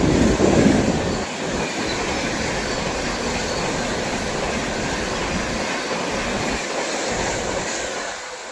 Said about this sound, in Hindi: एक और देखिए तीव्र गति से आ रही है भाई ट्रेन, तेजस एक्सप्रेस, पहली प्राइवेट ट्रेन।